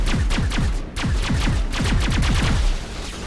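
Heavy-weapons gunfire in the Mass Effect video game, a rapid, loud burst of repeated shots in a steady rhythm, up close and continuous for a few seconds with a brief dip partway through.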